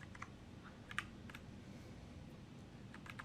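Soft, scattered computer-keyboard clicks, a few quick taps against a steady low background hum, with no talking.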